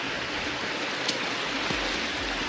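Small streams trickle and flow through a village of narrow lanes, a steady soft wash of running water close by with no voices.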